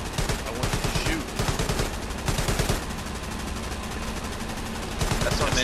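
Sustained gunfire in the online war game Hell Let Loose during tank training, dense bursts of rifle and machine-gun fire rattling loudly throughout with chatter mixed underneath.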